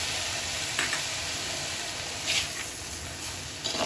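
A small splash of water added to a pan of spicy long beans stir-frying, giving a steady loud sizzle and hiss with a few brief bursts of stirring, no voices.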